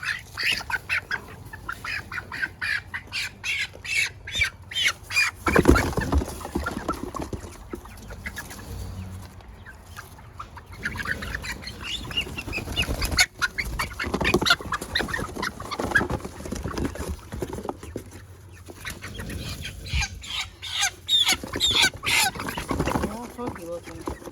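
Chickens and ducks on a farm, with clucking, squawking and quacking in quick bursts throughout, close and fairly loud, mixed with people talking nearby.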